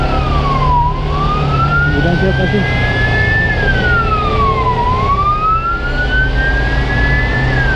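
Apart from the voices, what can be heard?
ambulance siren on the road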